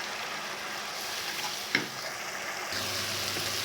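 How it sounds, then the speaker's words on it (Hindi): Spice masala for chicken tikka karahi is roasted and stirred in a pan, a soft steady sizzle with one sharp utensil knock midway and a slightly fuller hiss afterward, close but quiet. "अब हम अपने इस मसाले में इसको डाल के मसाले की अच्छी तरह कर लेते हैं भुनाई।"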